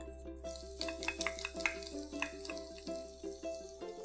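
Finely chopped garlic frying in a pan for an eggplant curd curry, a soft crackling sizzle under rhythmic scraping and tapping of a spoon, quiet and close.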